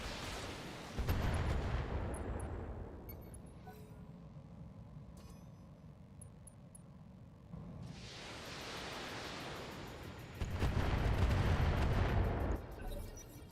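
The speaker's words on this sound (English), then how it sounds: "Friendly turrets also firing." Friendly turrets firing in the BattleTech video game, two heavy blasts of artillery-like fire a few seconds apart, each a broad rushing roar followed by rumbling decay, moderately loud with no talk.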